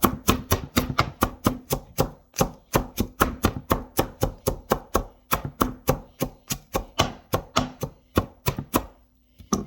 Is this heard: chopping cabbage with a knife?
yes